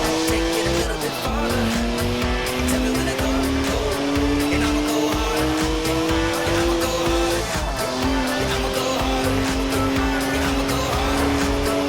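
A BMW in the Forza Horizon 4 video game squeals its tyres continuously in a smoky drift, the engine droning beneath with rising and falling pitch, loud and close, with occasional voices mixed in.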